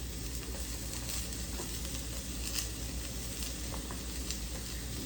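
Vegan Beyond Meat sausage with the skin removed sizzles in a frying pan, a soft, even frying hiss with faint crackling that carries on without a break and with no talking.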